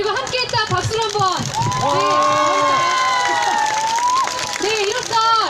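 Crowd at a Wednesday protest rally on the Japanese military sexual slavery issue applauding and cheering outdoors, with loud overlapping shouts and voices over the clapping.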